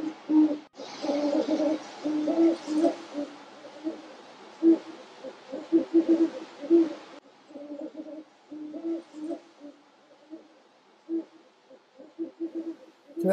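A pair of owls duets in a steady run of deep, rhythmic hoots at moderate distance, with broadband background hiss over the first seven seconds, then quieter.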